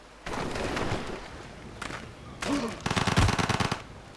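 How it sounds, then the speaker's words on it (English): Unit bombardment attack in Civilization 5: a few seconds of loud, rattling gunfire and explosive bursts, ending in a quick rapid-fire volley, heard alone without talk. "Then I'll bring him round to here and bombard him."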